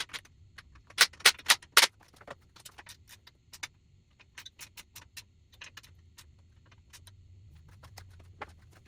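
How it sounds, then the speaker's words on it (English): Sharp metallic taps on the locking prongs of an RC car, a quick cluster of louder close taps followed by lighter, irregular ticks spread over several seconds. "I'm going to tap these locking prongs back into place."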